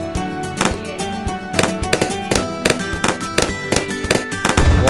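Frag bombs going off in Bloons Tower Defense 6, a loud, dense stream of crackling pops and bursts layered over game music, rapid and continuous for several seconds.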